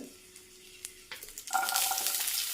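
Dried red chillies drop into hot coconut oil that already holds popped mustard seeds. A quiet stretch with a few small clicks gives way to a sudden, loud, steady sizzle that keeps going to the end.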